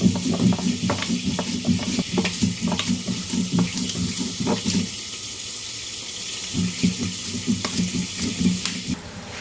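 Catfish pieces seasoned with salt and turmeric fry in hot oil in a home kitchen, giving a steady crackling sizzle with scattered pops and bursts throughout, briefly quieting midway before the spatter picks back up.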